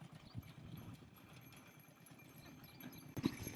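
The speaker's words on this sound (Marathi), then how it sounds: "ती समोरून बैलगाडी आली आणि आम्हाला रस्ता पण नाही जायला." A bullock cart approaches along a rural road near a fort, its hooves clopping faintly and irregularly, with a louder knock or thud near the end and no speech.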